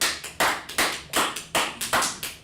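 Hands clapping in a small class group, a loose run of about ten sharp claps spread over a couple of seconds, close and fairly loud, with no voices.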